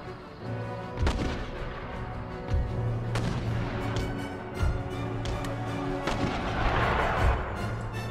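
Mortar and artillery fire in an Empire Total War battle, repeated heavy booms at irregular intervals over a continuous rumbling battlefield din, loud and fairly close with no talk.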